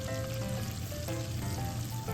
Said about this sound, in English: throw in our 6 sea prawns into the frying pan